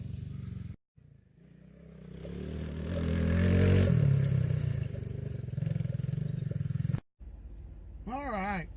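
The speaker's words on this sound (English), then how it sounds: "so KJ rode the crap out of that four-wheeler" Engine of a Chinese ATV four-wheeler ridden and drifted on a freshly cut trail, rising to a loud roar midway and holding steady, broken by short gaps, with people talking nearby.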